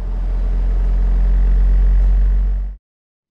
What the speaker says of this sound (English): The second sound you heard comes from what Ginkgo folks refer to as an integrated work cell.